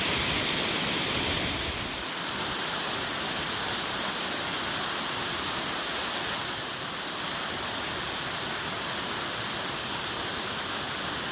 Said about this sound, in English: All that water is coming out from underneath the glacier.